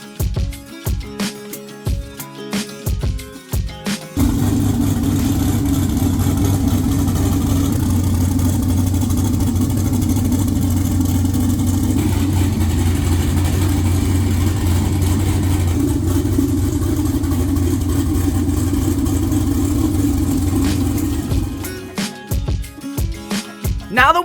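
A home-built race car engine running on 93 octane fuel roars loudly and steadily at a fast idle with a deep, rumbling drone, preceded and followed by brief clattering handling noises.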